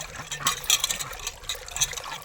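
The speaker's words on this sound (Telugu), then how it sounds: "బాగా రుద్దుకొని కడుక్కొని ఆ నీళ్ళు కడబోసేసి" Rinse water from washing is poured away, splashing and spattering in a short burst, trickling briefly close by.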